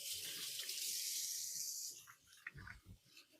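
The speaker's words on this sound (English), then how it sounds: "let me give my hands a quick wash." A water tap runs steadily as hands are washed at a kitchen sink, a close hissing stream for about two seconds before it shuts off, followed by a few soft splashes and handling sounds.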